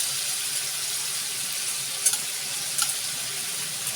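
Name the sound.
yogurt added to frying chicken in a karahi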